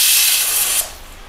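A loud, sharp burst of steam hisses from a pressure cooker cooking dal for under a second, then cuts off abruptly into quiet.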